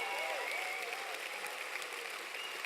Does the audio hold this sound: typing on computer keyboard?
no